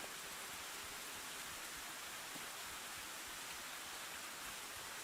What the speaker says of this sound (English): it's been raining on us the whole time